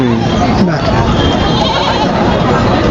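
Goats bleat among a loud, dense livestock crowd at a sheep and goat market in Atpadi, with calls overlapping steadily under constant talk from people nearby.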